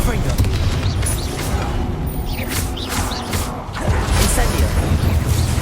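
Confringo explosive spell blasts in Hogwarts Legacy, a dense rumbling barrage of booms and crackling bursts that runs continuously at high loudness, dipping briefly before surging again.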